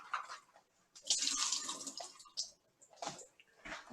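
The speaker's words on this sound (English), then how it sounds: "I'm going to drain them and rinse" Tap water running over drained canned carrots in a strainer, a close splashing gush that swells and falls in bursts with brief drips between, no talking.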